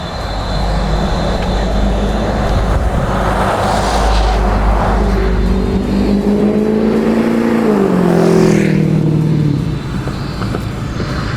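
A car drives past on a city street, a loud engine rumble and tire roar that swells and sweeps down in pitch as it passes nearby, with steady traffic noise around it.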